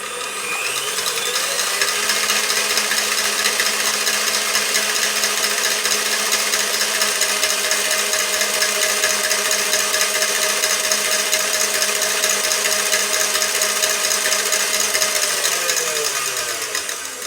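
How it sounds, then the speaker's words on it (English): Electric mixer whipping egg whites with allulose powder at full speed, a loud, continuous high-pitched whine and rattle that holds steady for the whole stretch with no talking. "I'm raising the speed of the mixer gradually because I don't want any allulose powder that's stuck on the top of the egg whites to fly out"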